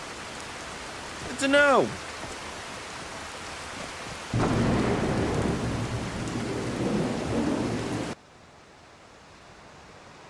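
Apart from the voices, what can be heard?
rain and thunder in a video game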